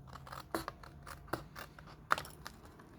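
Scissors snip away small paper squares for a craft box, a few sharp close cuts spaced irregularly over quiet room tone.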